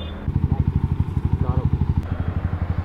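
A Yamaha R15 motorcycle engine on a ride pulses steadily in a fast, even rhythm and stays loud and close throughout. A voice talks over it.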